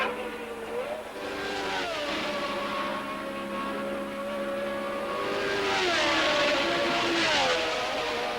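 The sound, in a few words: Formula 1 race cars passing, 1979 Canadian Grand Prix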